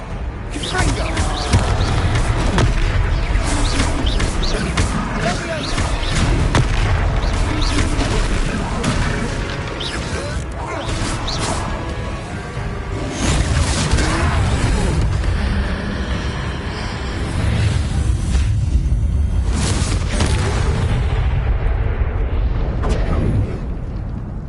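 Confringo spell explosions go off while fighting trolls in a video game: dense, loud, continuous booms and bursts layered with game audio, with voices heard amid the din.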